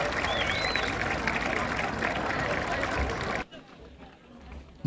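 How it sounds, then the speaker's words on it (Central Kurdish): A crowd at a private school event in Kurdistan applauds a teacher with loud, steady clapping that stops abruptly near the end. "چەپڵە بەهێزەکانتان بۆ ئوستافە."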